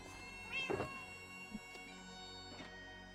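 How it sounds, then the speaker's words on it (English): A cat meows faintly a couple of times over a quiet background of steady sustained tones in a Minecraft game. "Why do I hear a cat?"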